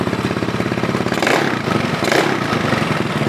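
A motorcycle engine idles close by after carburetor tuning, its steady, rapid pulsing lifting in two brief surges as the idle speed rises.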